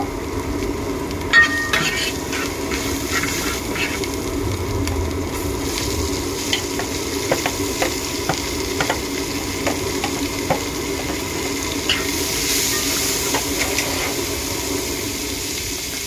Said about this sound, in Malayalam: ഒന്ന് ഇളക്കി കുറച്ച് നേരം ഒന്ന് ഇളക്കുക.